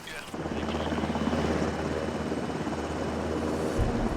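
US Air Force combat rescue helicopter flying low at night, a loud steady rotor and engine roar with pulsing blade chop, close and continuous, with voices talking underneath.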